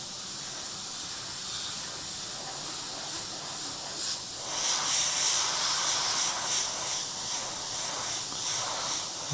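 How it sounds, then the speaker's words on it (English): An airbrush spraying paint onto model rocks, a continuous close hiss of air that swells slightly louder in the second half, with no talking. "we're just gonna spray in this edge and that edge"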